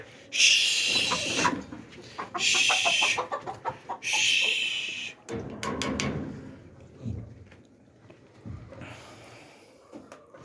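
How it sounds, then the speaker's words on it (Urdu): Hens on a goat farm clucking and squawking close by, several loud bursts with rapid clucks and rustling in between, fading to quieter clucks toward the end. "یہ مرغیاں بہت تنگ کرتی ہیں."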